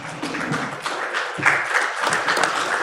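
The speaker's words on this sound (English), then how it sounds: "Let's have a round of applause, ladies and gentlemen." An audience at a 6G standardization workshop breaks into sustained applause, a dense, loud wash of many hands clapping together for a few seconds.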